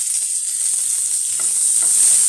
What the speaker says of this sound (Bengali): এবার পেঁয়াজটা ছেড়ে দিলাম।